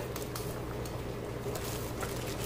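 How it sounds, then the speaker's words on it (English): Water boiling hard in a pot used for steaming shrimp and lobster for a seafood boil, a steady rolling bubble and hiss that stays even and fairly close throughout, with no talking. "We're going to go ahead and steam these last uh, bit of shrimp."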